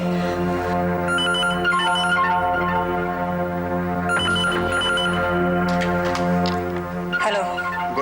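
A telephone rings with repeated electronic trills in bursts, loud and steady indoors, with faint background sound under it.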